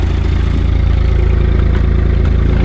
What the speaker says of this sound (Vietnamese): mình sẽ cho các bạn nghe tiếng máy động cơ